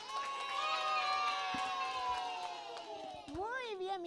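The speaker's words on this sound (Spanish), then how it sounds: "un aplauso bien fuerte, con grito" A group of schoolchildren on a kids' TV show clap and shout together in a burst of noisy cheering, high voices rising and falling over scattered claps before tapering off.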